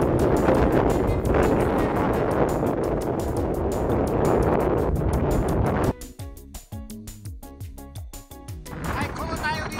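Strong wind on a mountain ridge of Shirouma-dake in the Northern Alps roars and buffets the microphone nearly nonstop, then briefly eases into choppier gusts before building again.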